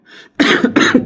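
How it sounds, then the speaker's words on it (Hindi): Two harsh, close coughs in quick succession after a brief soft voiced sound. "खांसी चल गई"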